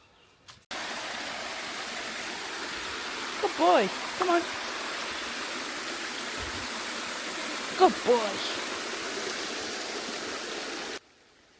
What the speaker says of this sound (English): One of the best things to see on this walk is the little waterfalls at the stepping stones.